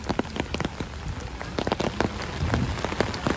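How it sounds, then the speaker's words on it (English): Rain falling during an outdoor stroll at Disney's Animal Kingdom, a steady hiss of drops striking surfaces nearby, with scattered louder splats and patters throughout and no speech. "So yeah, it's raining."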